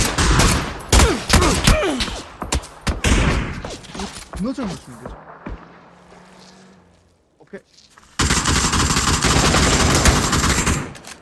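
Video game gunfire cracks in rapid bursts and single shots up close, mixed with excited voices talking, then a brief quieter stretch before a dense, loud wash of sound returns.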